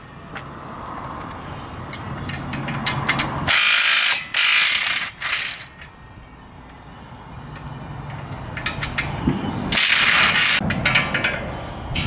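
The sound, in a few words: Milwaukee power tool ratcheting during hydraulic jack install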